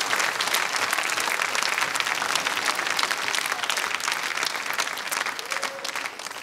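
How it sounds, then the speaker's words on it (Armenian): An audience claps for Grisha, a presenter: dense, sustained applause with many hands at once, steady and fairly loud, easing slightly toward the end. "Ծափարություններ Գրիշային։"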